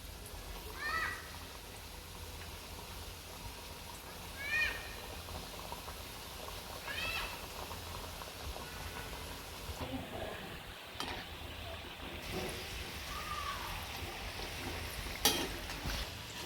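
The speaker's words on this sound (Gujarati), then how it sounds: "તેલ ગરમ થઈ ગઈ છે, ઘૂઘરા હવે તળી લઈશું." Ghughara deep-frying in hot oil, a soft steady bubbling and sizzle held low in the background, faint and continuous, with a few brief clinks and rustles over it.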